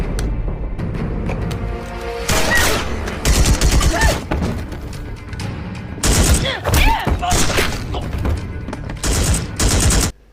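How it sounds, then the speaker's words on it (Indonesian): Rapid gunfire from a movie shootout between rival gangs crackles in dense bursts and volleys throughout, loud and close, mixed with thuds and impacts, with a voice talking over parts of it. "Disinilah terjadi adegan baku tembak dari masing-masing kelompok."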